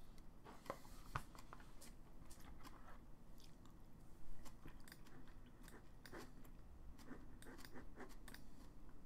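Crunchy chewing close to the mic, a steady run of small bites and crackles running under faint background noise while a player works through an MTG Arena match.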